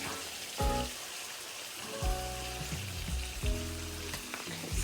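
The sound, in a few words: meat frying in a pan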